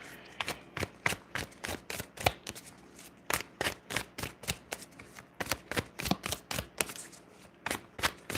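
Tarot cards are shuffled close up in a steady series of short, crisp riffling bursts, about two per second, with no talking.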